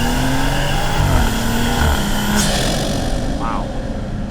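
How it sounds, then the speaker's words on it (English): Engine and intake noise from a BMW car while driving, heard from inside the cabin as a steady, loud drone with a rising whoosh partway through and faint voices underneath. "We're ready to hear the intake for the first time."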